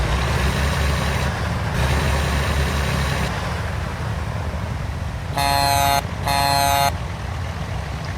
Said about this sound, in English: I have got to do something about that generic horn.